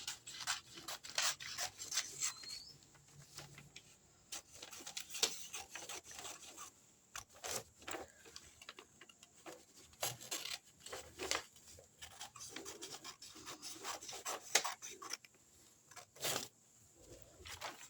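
Scissors cut through saree blouse fabric in short, crisp snips and rubbing strokes, quiet and close, repeating in irregular bursts with brief pauses between cuts.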